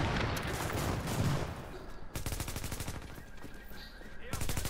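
Rapid bursts of automatic gunfire from a new weapon in the video game Tom Clancy's The Division, loud and close, firing in several runs with short pauses between them.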